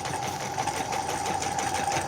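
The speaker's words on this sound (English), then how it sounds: "I'm just going to keep sewing around" A sewing machine stitches fabric in one steady, continuous mechanical whir with a fast buzzing hum, close and even throughout with no breaks.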